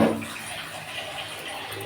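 Rinse water from a mixer jar is poured into spiced masala cooking in a pan, giving a brief, close splash that settles into a soft, steady trickle.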